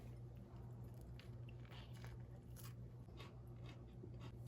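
Close, crisp crunching and squishy chewing of a salad of crunchy lettuce, pickles and kale, with steady bites running through the whole stretch and no talking.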